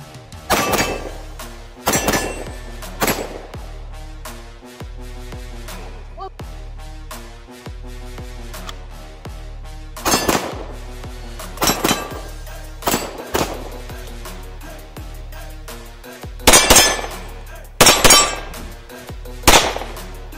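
A Springfield Prodigy 9mm pistol fires repeatedly at a soda can, with sharp loud shots that have metallic ringing tails. The shots come spaced irregularly, some of them in quick pairs, over a low steady background.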